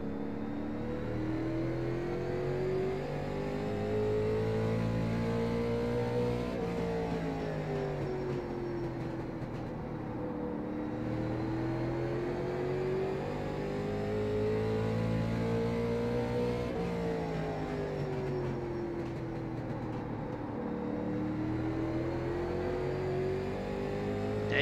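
A late model race car engine laps Martinsville in the iRacing game, a continuous loud drone that rises and falls in pitch as it accelerates down the straights and backs off for the turns, repeating twice.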